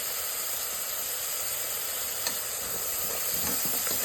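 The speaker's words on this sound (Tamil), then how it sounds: "நல்லா ஃப்ரை பண்ணி விடுங்க." Tomato, onion and spice masala for goat liver biryani frying in a pan makes a steady close hiss and sizzle with a few faint crackles, alone without talk.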